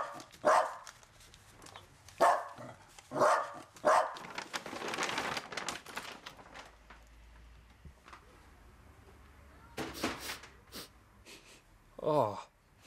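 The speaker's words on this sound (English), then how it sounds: "That's Skanger's dog after taking a Shih Tzu." A dog barks in several sharp bursts, close and loud, with a rough snorting scuffle between and more barks and a growl later; voices talk briefly.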